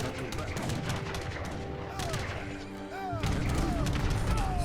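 Units exchange steady gunfire in an Age of Empires III battle during the Act II Ice mission, with overlapping musket shots and crackling volleys that carry on throughout and swell louder near the end.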